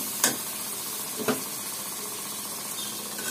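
Dried lotia fish sizzles in a pan with turmeric and dried chili powder, a soft steady crackle with two sharp scraping stirs near the start.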